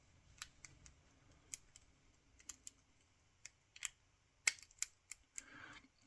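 Faint metallic clicks and ticks from a Sandman lock pick working the pins of a tight-keyway lock, scattered irregularly over several seconds with one sharper click near the end, close and quiet with no talk.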